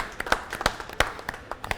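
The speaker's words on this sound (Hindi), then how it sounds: "तालियां बजाएंगे।" Studio audience at a Pakistani grocery game show applauding with crisp, separate hand claps that come in an irregular patter, moderately loud over a low room background.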